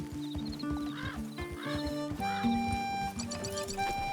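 A horse whinnies several times in the western game Red Dead Redemption, with clear, loud neighs rising over clip-clopping hooves and light background music at a ranch corral.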